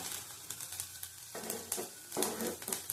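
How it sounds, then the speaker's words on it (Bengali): Bottle gourd peel frying in a pan and being stirred, with a steady sizzle broken by several scraping stirs, close and moderately loud, with no talking. "লাউ চোকলাটা ভাজা হয়ে গেছে।"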